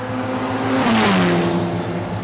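Formula Regional race cars in a qualifying practice session produce a rising and falling engine note as one passes fairly close, with a broad rush of noise at the peak; no one speaks.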